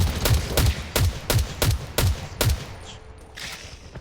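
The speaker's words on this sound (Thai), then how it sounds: "ลูกกระปืนบินผ่านหัว" Bursts of gunfire in the video game Garena Undawn crack out loud and close: about eight sharp shots in an uneven rhythm, then fading to a quieter tail.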